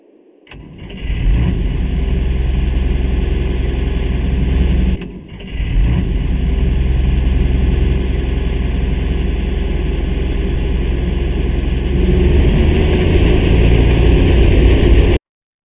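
A tractor engine in a snowy farming survival video game is revved hard to warm up, a steady loud low drone held for about fifteen seconds with a brief dip early on, no voices.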